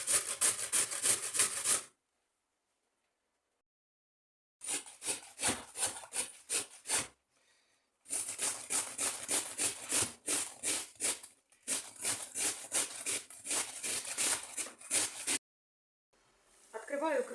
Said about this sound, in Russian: Также натираю на крупной терке.